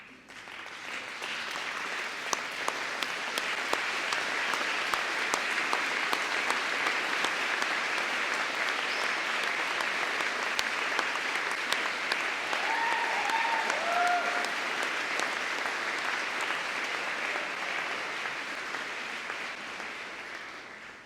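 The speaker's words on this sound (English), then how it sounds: "I'm going to ask you to stand and face those individuals and give them a very well-deserved round of applause." A graduation audience gives a long standing ovation, sustained dense clapping from a large crowd that swells quickly and continues steadily for about twenty seconds, with a few faint voices beneath.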